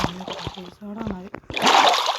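Water splashes in Minecraft horror mode, a brief burst of rushing, sloshing noise at the end, preceded by voiced, tonal sounds.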